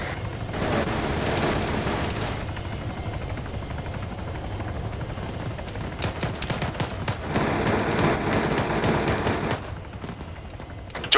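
Gunfire crackles through a firefight in Arma 3, with bursts of rapid shots layered over a steady helicopter-like rotor drone, dense and loud throughout with no voices.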